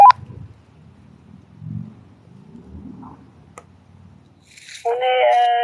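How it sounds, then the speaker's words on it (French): A walkie-talkie out in a forest crackles with faint interference and clicks, then sounds a steady multi-tone electronic ringing that holds loud and alone for the last second. "On a eu deux fois le talkie-walkie qui a sonné"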